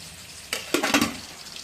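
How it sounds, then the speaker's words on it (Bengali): Potatoes and flat beans fry in a pan for a home-cooked lunch, giving a short burst of sizzling with a few clatters of a utensil, close and fairly loud, and no talk. "আর আলু আর শিম ভাজা হচ্ছে"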